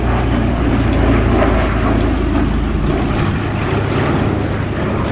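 A Douglas R4D-6S Skytrain, the military DC-3, flying at an air festival, its piston engines and propellers giving a loud, steady droning roar that fills the whole stretch with no talking.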